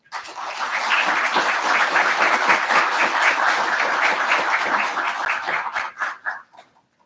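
Audience applause welcomes a lecture speaker at the Senator Nicholas C. Petris Lecture, a dense, steady burst of clapping from a large crowd that holds for about six seconds before thinning out and stopping.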